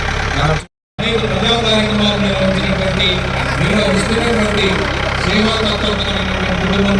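A vehicle engine idles and rumbles steadily at close range as it moves along in an Independence Day parade, with a brief dropout near the start and a continuous mid-pitched drone throughout.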